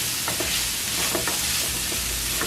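A nacho filling mixture sizzles in a hot pan while being stirred, giving a steady close frying hiss with repeated soft scraping strokes through the short stretch, with no talking.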